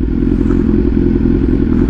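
A BMW S1000R supernaked motorcycle engine runs steadily loud and close for two seconds, a dense continuous roar held at mid revs with slight clatter, no voices.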